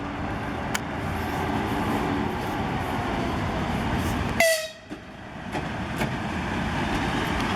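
EP2K electric locomotive hauling the St Petersburg–Belgorod express train 119A rumbles past loudly and steadily, with a short sharp horn blast midway.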